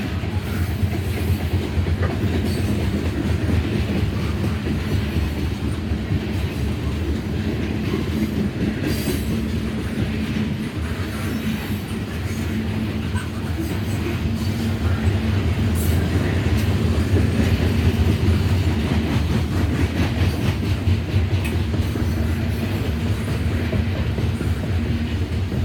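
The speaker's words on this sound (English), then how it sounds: "Good chance this coal train's going up the Sandusky line all the way up to Sandusky." A coal freight train passes on a railway line, giving a loud, continuous rumble with rhythmic wheel clatter over the rails. It swells slightly partway through and carries on without letting up.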